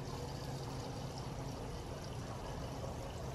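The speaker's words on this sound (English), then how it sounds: "Water is coming out down the bottom?" Continuous rushing water from a garden fountain pours and splashes steadily, a dense, close, unbroken flow with no voices.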